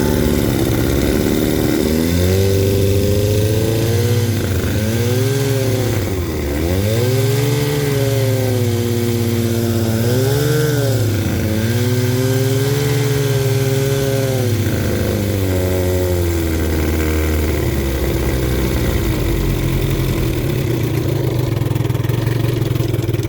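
A 1973 Johnson 20hp outboard motor revs in gear, its engine note rising and falling through several loud throttle swells, close and steady, with no talking.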